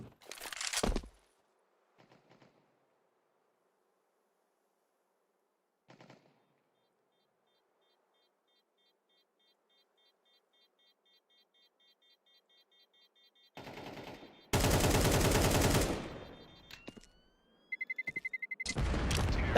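Short bursts of AK rifle fire ring out in a Counter-Strike match: a burst near the start, a few isolated shots, then a dense sustained volley and final rapid shots toward the end, sharp and loud.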